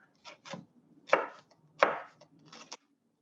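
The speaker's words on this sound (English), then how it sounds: "So I'm going to do this kind of like really, really thin julienne first. Then I'm going to run through it and really mince it up." A kitchen knife cuts food into very thin julienne strips on a cutting board for a black bean salad, making a handful of close, crisp chops in uneven bursts with short gaps between them.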